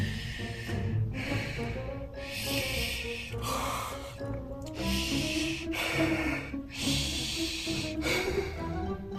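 A voice imitates a monster named Herbert panting, producing loud, rhythmic breathy gasps and snorts repeated about once per second, close up and with no speech.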